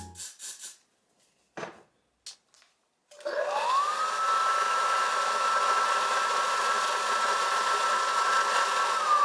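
A hair dryer starts with a click and blows a steady, loud whir close by, drying edge spray on hair during a half wig install, after some brief handling rustles.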